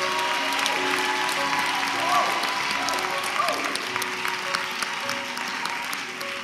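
A church congregation at an installation ceremony bursts into sustained applause, a dense wash of clapping that holds steady throughout, with a voice speaking over it.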